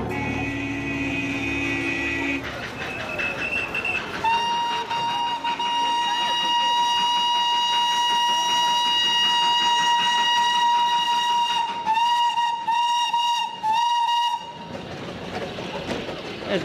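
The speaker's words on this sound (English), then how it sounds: "only by ingenious loops and switchbacks and the narrowest of tracks could the little toy train reach the top." A Himalayan toy train runs along narrow mountain track, its steam whistle sounding in long sustained blasts for most of the stretch, loud and close over the steady rumble of the train.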